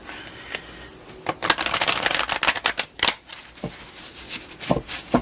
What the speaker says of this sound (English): one reason is because of the way that I'm shuffling these cards.